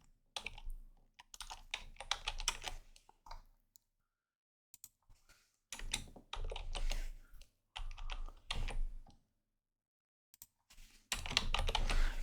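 Someone types a Google Scholar search query on a computer keyboard in close, crisp bursts of rapid key clicks, with short silent pauses between the runs of typing.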